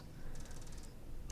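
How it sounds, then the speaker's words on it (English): A window shaking as a big truck passes on the street gives a faint, rapid buzzy rattle lasting about half a second, heard alone in a quiet room. "Whenever big trucks go by on our street, the window shakes."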